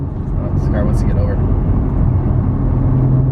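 Exhaust of an Infiniti G35 while driving, a steady low rumble running under someone talking throughout.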